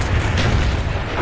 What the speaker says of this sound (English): Friendly mortars inbound.